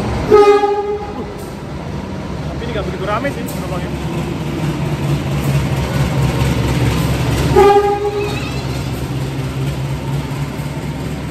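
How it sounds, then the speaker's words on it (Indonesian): A Bengawan passenger train rumbles past, its horn sounding near the start and again later, while a person talks over the steady rolling noise. "Ini ada kereta api Bengawan, kereta api Bengawan"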